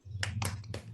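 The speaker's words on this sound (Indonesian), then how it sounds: "Kita akan tepuk semangat." Rhythmic spirit clapping, tepuk semangat, by a class of children: several quick bursts of hand claps in a short pattern, faint and close, over a constant low hum.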